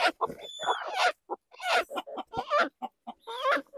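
Chickens cluck and squawk close by in quick irregular bursts, with a few higher calls mixed in.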